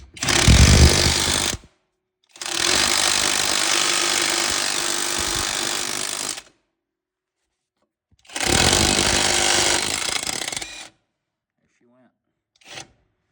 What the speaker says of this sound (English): I'm impressed with this little impact here, guys.